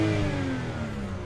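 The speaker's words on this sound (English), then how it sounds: "here is our engine running for a while, so we can rev it up and let's hear" A BMW 335i E90 engine revs up and holds at a raised, steady pitch, close by and loud, with no voices.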